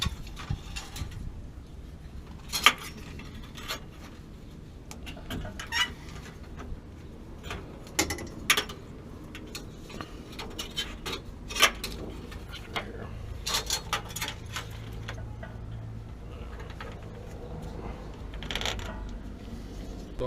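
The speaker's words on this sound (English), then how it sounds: "I did a quick adjustment on the strap so I could get a little more tension on this earthquake strap" Faint clicks and ratcheting snaps of a tension adjuster on a water heater earthquake strap, irregular and scattered over a quiet background with sporadic mechanical knocks.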